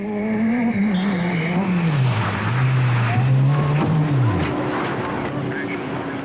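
A 1989 rally car driven by Malcolm Wilson revs and shifts, its engine note rising and falling steadily under a commentator's voice.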